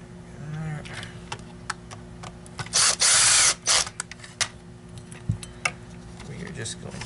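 A power driver sends screws into a Dyson DC23 canister vacuum cyclone in short bursts, a couple of brief whirring pulses amid clicks and handling noise, with a faint hum underneath.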